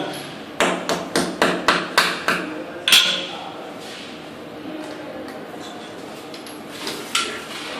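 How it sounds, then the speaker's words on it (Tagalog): Hammer blows while installing a toilet bowl, about nine sharp evenly spaced strikes in quick succession followed by quieter work sounds and a couple of faint taps, with people talking nearby. "Gamay pag martilyo."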